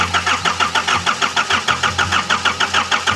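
An RV engine cranks over on a weak battery, a loud close starter whirr with a steady rhythmic chug of about five compression pulses per second that never catches.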